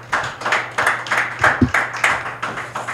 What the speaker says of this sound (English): Another round of applause to Dr. Lutege.